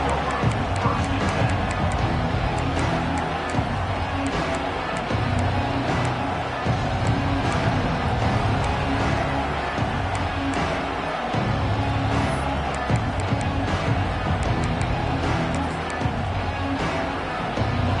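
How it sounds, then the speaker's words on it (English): Stadium crowd in a college football video game roars steadily and loudly throughout, a dense continuous wash of cheering with no pauses. "This crowd ready to make its presence known."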